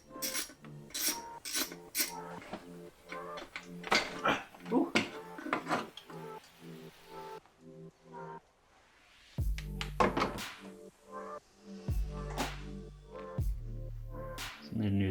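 On a Volvo XC90 engine, a rubber dipstick tube seal is twisted back and forth and pulled free: rasping, rubbing scrapes and sharp knocks in an irregular run, close-up, with a pause midway.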